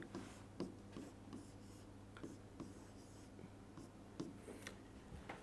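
Marker or chalk writing on a board during a set theory lecture, faint scratchy strokes and taps in irregular bursts over a low steady room hum, with no talk.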